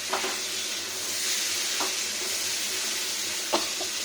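Cabbage curry frying in oil in a pan, a steady close sizzle broken by a few light scraping stirs of a spoon, with no voices.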